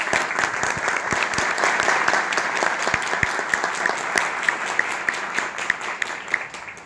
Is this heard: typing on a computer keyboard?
no